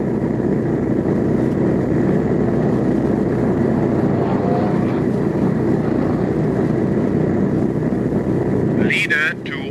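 Aircraft engines drone steadily in an old-time radio drama about a bomber flight, a loud, constant rumble with wind-like noise that fills the scene and drops away at the end, where a short radio-style burst sounds.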